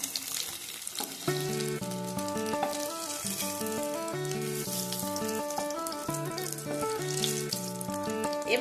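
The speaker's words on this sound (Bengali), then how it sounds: "ভাজা হয়ে গেছে, আমি পনিরগুলো উঠিয়ে নিচ্ছি।" Paneer pieces fry in hot oil with a steady, close sizzle, played under melodic background music with no talking.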